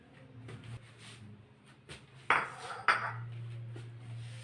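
Plates being lifted out of a dish rack, giving two sharp ceramic clinks a moment apart over a low steady hum and a few lighter taps.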